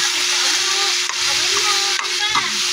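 Chicken gizzards sauté in a hot pan, a steady loud sizzle and crackle of frying that runs without a break, with faint stirring clinks now and then.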